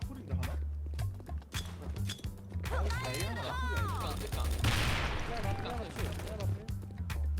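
Gunfire in the online shooter Sudden Attack during a tense team match, with bursts of shots and game effects running under steady music while players talk over voice chat throughout.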